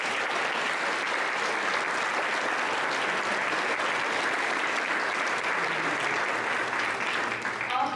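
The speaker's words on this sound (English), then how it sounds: "Let's give them a round of applause." Audience at an Illinois Democratic gubernatorial candidate forum giving a round of applause, thick and steady clapping from a sizable crowd that holds level throughout before tapering slightly at the end.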